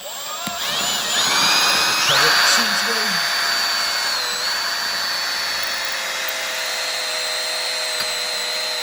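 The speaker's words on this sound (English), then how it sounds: "So we get them all drilled." A power drill on normal drill mode whines steadily and close while drilling into a soft stone wall, its pitch rising as it bites in, then holding a sustained drone.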